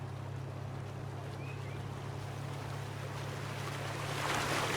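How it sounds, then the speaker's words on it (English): Water in the Farming Simulator 19 video game makes a continuous wash like waves or a boat's wake with a low steady hum beneath, fairly quiet and unbroken, growing slightly louder near the end. "that water's a little loud"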